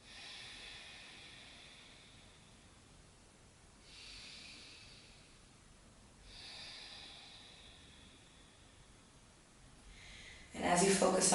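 Slow, soft breaths during a barre and yoga class come as faint airy swells, a few seconds apart, over quiet room noise, with a sharp louder noise at the very end.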